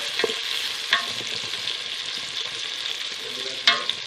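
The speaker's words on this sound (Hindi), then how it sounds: "फ्लेम को थोड़ा तेज़ रखा हुआ ताकि प्याज जल्दी मेरा गोल्डन कलर हो जाए" Onions fry in hot oil in a pan over high flame, giving a steady, close sizzle with occasional sharper spatters and light stirring clinks throughout.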